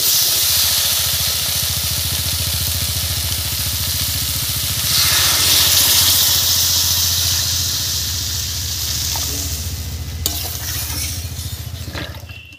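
Water hits spiced potatoes and cauliflower in a hot pan, a loud broad sizzle and hiss that swells midway then gradually settles into softer bubbling, with a brief clank near the end.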